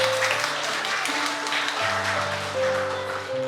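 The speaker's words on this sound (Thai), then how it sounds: "ขอเสียงปรบมือดังๆ" Guests at a traditional Thai wedding ceremony in a hotel clap together in a moderate, steady patter, with sustained background music playing underneath.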